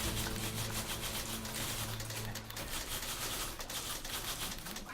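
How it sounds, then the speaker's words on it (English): A dense, continuous clatter of many typewriters clacking together in the video game The Beginner's Guide, loud and steady, with a low tone fading out partway through. "It's an army of typewriters."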